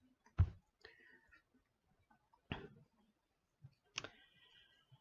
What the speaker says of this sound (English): we're going to click on New Meeting